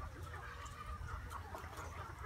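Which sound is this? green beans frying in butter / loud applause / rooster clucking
rooster clucking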